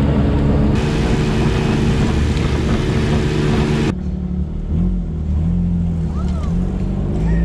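A life-size Tonka monster truck engine roars and revs loudly up close, a steady heavy rumble that drops back to a lower idle partway through.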